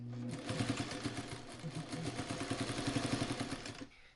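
A sewing machine runs steadily for about four seconds, stitching fabric for a quilt carrier with a rapid rhythmic mechanical chatter, close and moderately quiet, then stops.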